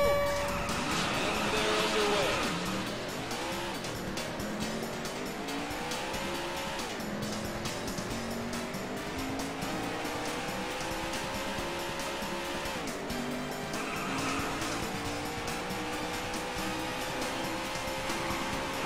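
Race car engines rev and whine with repeated tire squeals in an arcade racing game at an expo, set to manual or automatic transmission, a steady loud stream of engine pitch sweeps with game music and announcer voice.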